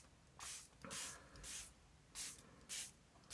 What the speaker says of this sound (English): Yeah, this sprayer is no problem.